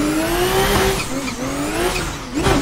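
A Nissan R34 drift car in Assetto Corsa holds a loud, steady engine note, rising and dipping with throttle changes and tire squeal, ending with a quick rev climb.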